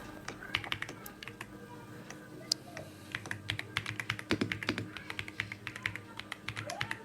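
Steady, irregular clicking of keys on a computer keyboard while a RISC-V assembly program is entered for a microprocessor lab, close and fairly quiet with no talk.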